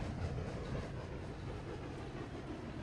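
A train rolls along the tracks in the Railroads Online video game, giving a continuous low rumble with a faint rattle that holds steady and fairly close throughout, with no talking.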